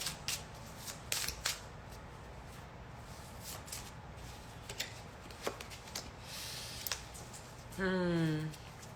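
Tarot cards being shuffled by hand, a steady papery riffle and rustle up close with soft flicks, ending in a brief louder buzzing burst near the end.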